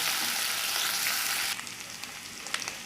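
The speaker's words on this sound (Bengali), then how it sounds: "দেখুন মশলাগুলো হালকা একটু ভাজা হয়ে আসছে" Onions and spices with ginger-garlic paste fry in a pan with a steady, close hiss, which drops to a softer sizzle with a few light crackles partway through.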